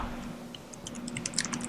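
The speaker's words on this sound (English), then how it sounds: "I hear you typing" Quiet typing on a computer keyboard picked up over a call, a run of light clicky keystrokes that grows busier toward the end, heard alone at low level over a faint steady hum.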